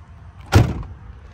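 The rear door of a 2005 Ford Excursion Limited pops open with a single short, solid thud and latch clunk at close range, followed by quiet.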